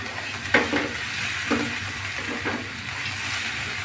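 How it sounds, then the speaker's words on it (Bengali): Green peas sizzling as they are tipped into hot oil in a kadai and stirred, with green chillies already in the pan for a spicy fish curry; a steady fry hiss with a few sharp scraping stirs spaced about a second apart. "এবার আমি কড়াইশুঁটিগুলো দিয়ে দিচ্ছি"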